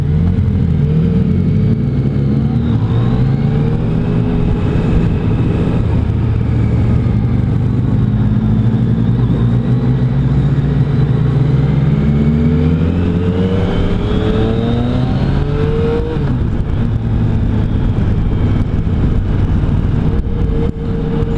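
Yamaha FJ-09 motorcycle engine on a demo ride, a loud steady drone with rising and falling revs as the bike accelerates and shifts, continuous throughout with wind noise and no talk.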